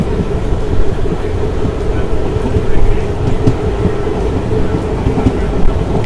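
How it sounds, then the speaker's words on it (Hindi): An EMD diesel locomotive accelerates at the head of the Ahmedabad–Jammu Tawi Express, heard from onboard as a steady loud rumble of rolling wheels and engine with faint rattles, and no talk over it. "EMD का एक्सेलरेशन और धुआं आप देख सकते हैं। आ गए EMD लोकोमोटिव।"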